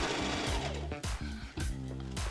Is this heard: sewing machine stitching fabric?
yes